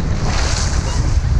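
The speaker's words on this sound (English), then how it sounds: "the waves are getting bigger" Ocean surf at a Freeport beach roars loudly as strong wind buffets the microphone, a continuous, rumbling wash of waves and gusts with no pauses.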